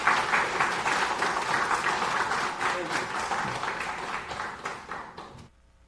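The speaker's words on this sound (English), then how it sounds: "can we give another round of applause to Kartik and thank him for coming out?" Audience applause at a DebConf24 conference talk on Debian for embedded Linux, a steady burst of many hands clapping that fades near the end and cuts to silence.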